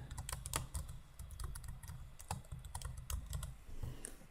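Someone types a password on a computer keyboard, a quick irregular run of close, crisp key clicks, quiet and alone with no talking.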